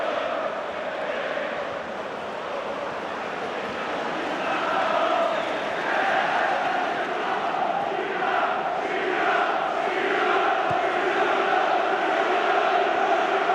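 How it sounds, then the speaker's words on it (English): Stadium crowd at a Newcastle United versus Reading Championship match, a broad sustained roar and murmur that swells slightly as Alan Shearer is spotted arriving around the ground, steady and dense throughout. "I think the crowd have just realised he is here"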